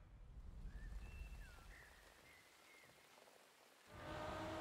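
Spring rain falls in Forza Horizon 4, a soft, steady patter of drops on surfaces heard faintly, swelling louder toward the end.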